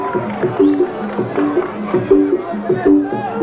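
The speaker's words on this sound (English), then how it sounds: "The crowd are getting behind their man." A kickboxing arena crowd at a Cikatić versus Hoost bout roars and cheers steadily, a dense hubbub of voices rising and falling for a few seconds, with a commentator's voice running over the noise.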